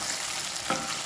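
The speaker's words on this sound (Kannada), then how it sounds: "ಇವಾಗ ನಾನು ಇದಕ್ಕೆ ಕಟ್ ಮಾಡಿದ ಟೊಮೆಟೊವನ್ನು ಸೇರಿಸ್ಕೊಳ್ತೇನೆ." Chopped tomato sizzles steadily in a hot pan with onion for a banana-stem stir-fry, and a brief spoon scrape stirs through the hiss partway through.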